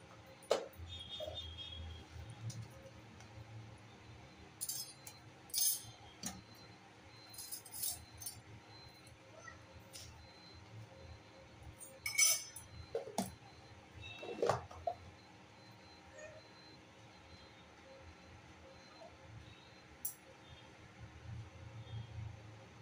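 Faint, scattered clinks and small metallic jingles come while plain afternoon tea is made without ginger, spaced out against a quiet room hum with occasional louder knocks.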